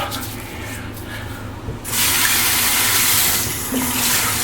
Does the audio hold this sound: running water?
yes